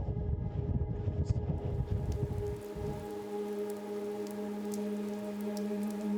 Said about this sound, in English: It's raining and we've just lost the sun